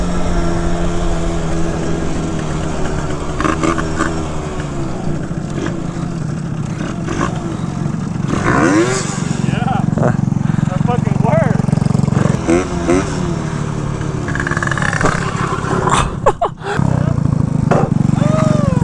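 A cheap two-stroke motorcycle engine that runs badly at the top end, droning and revving loudly and continuously at close range while people talk over it.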